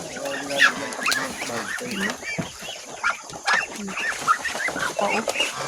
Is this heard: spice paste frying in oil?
no